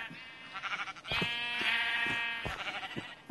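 A sheep in Minecraft gives one drawn-out, wavering bleat, close and clear, between a few short soft thuds.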